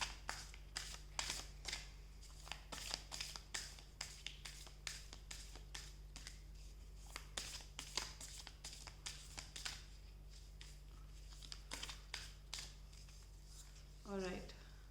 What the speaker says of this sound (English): Let me take out some major arcana cards.